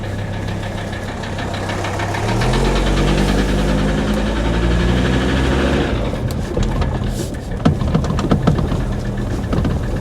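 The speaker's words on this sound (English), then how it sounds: "you can hear that rapping metallic knock. That is not a normal diesel sound." A 300TD wagon's loud diesel engine runs steadily with a rapid metallic rapping knock throughout, growing rougher as it passes close by.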